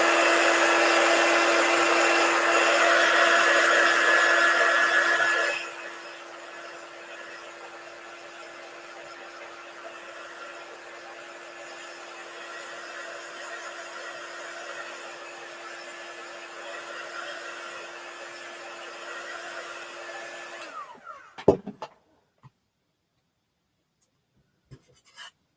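Hair dryer drying chalk paste on a 9x9 box frame welcome sign, a loud steady blowing hum for about five seconds, then a quieter lower setting that runs on before clicking off, followed by a few handling knocks.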